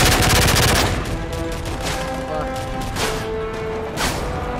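Shotgun fire in the first-person shooter Modern Warfare 3, loud blasts and rapid gunfire crashing together over dense in-game battle noise, with voices underneath.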